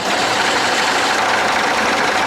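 A 5-ton truck's diesel engine runs rough after being primed, a loud, steady, dense mechanical drone with uneven knocking texture, heard up close with no talk.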